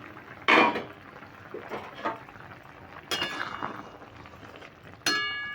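A lid lifted off a pot of Bengali shukto with boiled vegetables, a few sharp metallic clinks and clatters at close range separated by quieter pauses, with no voices.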